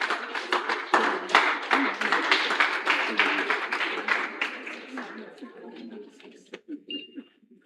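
Studio audience applauding to welcome a guest to a Guinness World Record interview marathon, with dense sustained clapping that thins into scattered claps and fades out near the end.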